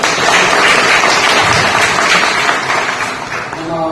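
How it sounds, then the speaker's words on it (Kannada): Applause from an audience at a bakery owners' association training event in Hassan, a dense, steady wash of clapping at moderate loudness that thins slightly toward the end. "ಎಲ್ಲರಿಗೂ ಒಂದು ಮೆಚ್ಚುಗೆ ಚಪ್ಪಾಳೆ ಬರಲಿ"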